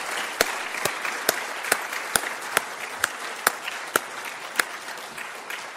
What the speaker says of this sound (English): Let's give a round of applause to Soren.